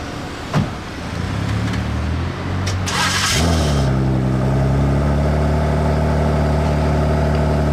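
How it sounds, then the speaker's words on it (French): A V6 Formula 1 car engine cranks and catches, revving up before settling into a steady, smooth idle, close and fairly loud. "Ça fait pas énormément de bruit, hein. C'est un V6."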